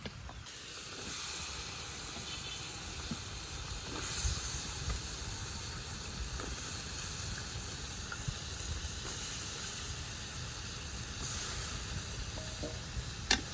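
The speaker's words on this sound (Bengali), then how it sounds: "মাছটা হালকা করে কষিয়ে নিচ্ছি" River-caught tengra and puti fish fry gently in a pan, a soft, even sizzle and hiss that holds steady throughout at modest volume, with faint stirring touches and no talking.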